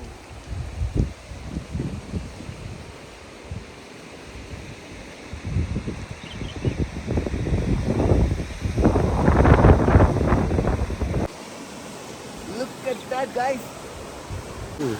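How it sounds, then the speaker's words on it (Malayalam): A strongly flowing waterfall at Kodaikanal roars as a broad, rushing wash that swells louder midway, mixed with wind buffeting the microphone and voices talking over it. "വാട്ടർഫോൾ നല്ല ഒഴുക്കുണ്ട് കേട്ടോ പിന്നെ അത് ഇങ്ങനെ ഒഴുകി വരുന്നുണ്ടോ അതിൻ്റെ ആ ഒരു സൗണ്ടാണ്"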